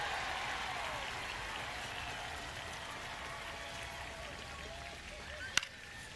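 Baseball stadium crowd at a ninth-inning opening day game, a steady broad roar of cheering and applause from many fans, with a single sharp crack near the end.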